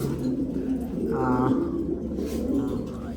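Pigeons cooing close by in a home loft, a low rolling coo repeating over a steady background murmur, with a person talking quietly underneath.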